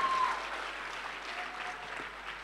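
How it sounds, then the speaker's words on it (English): A packed hall audience at a book talk claps in a sustained, dense wash of applause that stays fairly even and moderately loud throughout. "may I request you guys applaud loud enough so that he can hear it in Delhi"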